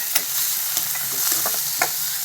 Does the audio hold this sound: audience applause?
no